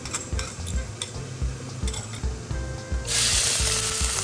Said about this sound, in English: Scramble 2 large eggs